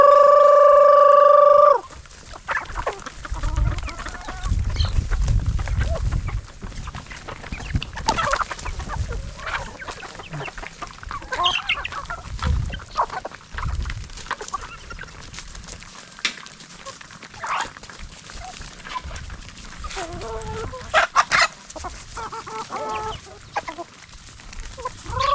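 Free-range chickens cluck and murmur at low volume across an outdoor farm yard, scattered calls over a busy rural background with a brief louder sound at the start.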